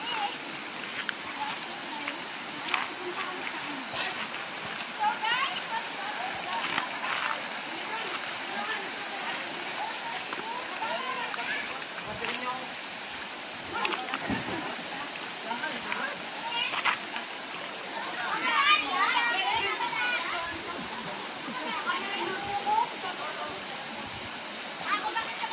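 Mantayob waterfall in Barangay Bunog, Rizal, Palawan, a very tall falls, gives a constant rushing wash of falling water with occasional splashes, heard close up beneath a person talking.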